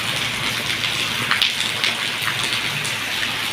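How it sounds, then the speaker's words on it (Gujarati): Heavy rain pours steadily over farm fields during cotton weeding, a dense continuous hiss with scattered louder drop splashes close by, no voices. "વધારે વરસાદ આવે છે"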